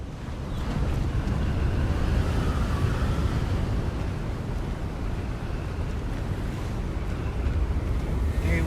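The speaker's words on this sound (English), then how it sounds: "Very windy." Strong wind gusts through a Hogwarts Legacy game scene, a loud, rumbling, low roar that buffets steadily throughout with no talk over it.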